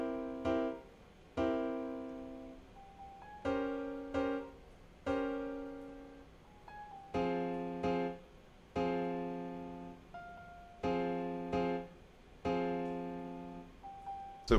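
Noir Pure Piano with the extra body preset plays a gentle melody in FL Studio, soft repeated chords and single notes in a steady rhythm, each struck and fading, close and quiet with no voices.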